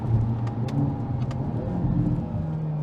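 A Hyundai Elantra N engine accelerates steadily with a mid-pitched hum, with brief quick dual-clutch gear changes breaking the drone, heard from inside the car.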